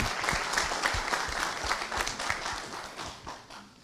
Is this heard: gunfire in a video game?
no